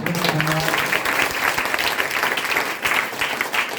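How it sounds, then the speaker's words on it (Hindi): Church congregation at a Hindi testimony service breaking into steady, dense applause that fills the room for several seconds, with no talk over it. "ताली बजाएं।"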